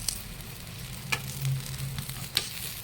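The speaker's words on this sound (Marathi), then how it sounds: "छान खडकूत असा भाजून घ्यायचा हा" A paneer-stuffed paratha roasts crisp on a hot pan, giving a soft, steady sizzle with occasional light scrapes and ticks from turning it, with a low hum running underneath.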